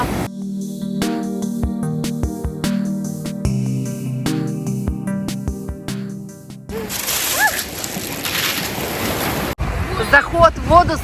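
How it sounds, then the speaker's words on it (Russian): Large sea waves and strong wind roar on the beach at Bari, Italy, a loud, rushing wash of surf and gusts heard after a stretch of music, with voices briefly over it. "очень сильный ветер и течение отбойное. Власти купаться запретили. Волны здесь очень большие"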